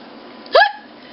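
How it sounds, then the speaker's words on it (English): A single abrupt hiccup from a man, close and loud, standing alone against a quiet background. "why do I always get the hiccups when I talk gangster?"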